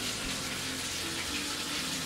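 Greywater from a DIY shower-to-landscape system gushing steadily out of a drain pipe, a continuous close hissing splash with no breaks and no voices.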